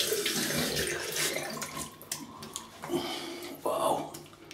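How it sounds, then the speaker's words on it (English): Tap water runs from a faucet into a sink as a safety razor is rinsed off after lathering with Pomona soap, a steady close splashing with a few sharper bursts and light clatter. "Let me rinse this off."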